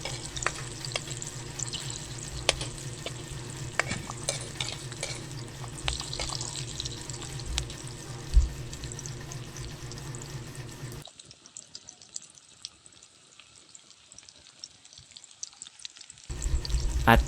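Ginger going into a pan of bagongon shells cooking in coconut milk gives a steady, close sizzle and frying hiss with stirring scrapes. The sound drops almost to silence for a few seconds near the end, then returns.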